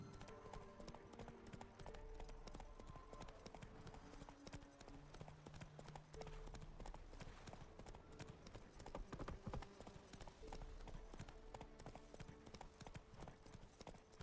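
Roach the horse in The Witcher 3 gallops at speed, with a steady, fast clip-clop of hooves carried along under a continuous bed of game music.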